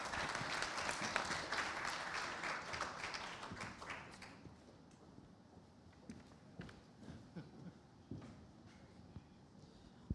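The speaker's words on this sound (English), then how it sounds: "Let's give a round of applause" Audience applause at a medtech conference, dense clapping for about four seconds that thins into scattered claps and then fades away.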